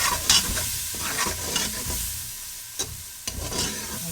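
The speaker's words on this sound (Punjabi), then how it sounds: "ਜਿਹੜੇ ਅਸੀਂ ਲਏ ਸਨ ਜਾਇਫਲ ਜਵਿਤਰੀ ਦਾ ਪਾਊਡਰ ਵਗੈਰਾ ਉਹ ਸਭ ਸ਼ਾਮਿਲ ਕਰ ਦਿੰਦੇ ਆ। ਇਹਨਾਂ ਨੂੰ ਥੋੜੀ ਦੇਰ ਲਈ ਭੁੰਨਣੇ ਆ।" Nutmeg and mace powder, with dry coriander, roast in a pan while a spoon scrapes and stirs in irregular strokes over a soft, continuous sizzle; no voices.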